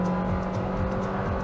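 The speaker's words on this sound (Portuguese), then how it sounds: "ele trocou marcha bem na hora da curva aqui" Nissan Kicks 2022 in Sport mode, a steady droning engine note heard from the cabin with a brief dip around a gear change, moderate level and no talk.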